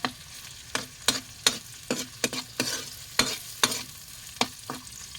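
Chicken adobo sautéing in oil over a wood-fired stove, a low sizzle punctuated by about a dozen sharp spatula scrapes and clanks in an uneven stirring rhythm.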